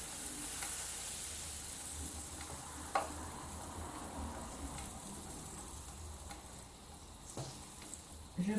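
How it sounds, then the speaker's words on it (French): Waffle batter cooking in a hot waffle iron, a quiet, steady sizzle and hiss with a few faint clicks and taps, continuous and low in level with no one speaking. "Je mets une louche de pâte dans le gaufrier."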